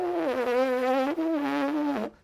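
A trumpet player buzzes the lips freely without the instrument, producing a sustained, strongly pitched buzzing tone with a slight waver and a small dip in the middle, close and clear.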